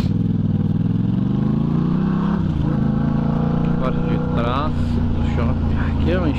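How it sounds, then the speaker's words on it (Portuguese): A Yamaha MT-07 motorcycle accelerates along a city street, engine pitch climbing and shifting through gears at close range, with someone talking over the steady road and engine noise. "Aí dá uma aceleradinha nas ruas aqui"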